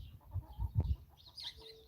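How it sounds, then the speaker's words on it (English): Backyard chickens making soft, low clucking sounds for under two seconds, with a brief burst of louder clucks in the middle and faint chirps above, recorded close by in a quiet outdoor setting with no talking. "My chickens."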